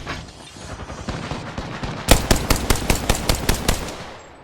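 Rapid gunfire in the video game Apex Legends, a burst of a dozen evenly spaced loud shots cutting in after a rumbling stretch of game noise, close and punchy, with no talk.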